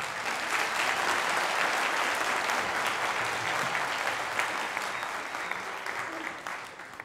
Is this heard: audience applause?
yes